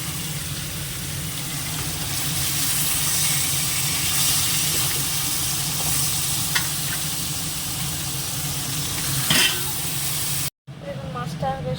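Fish frying in hot oil in a home kitchen, a loud steady sizzle lasting several seconds with a few sharp pops, then a brief cut before the sizzle resumes more quietly.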